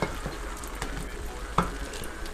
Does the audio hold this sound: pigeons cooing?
no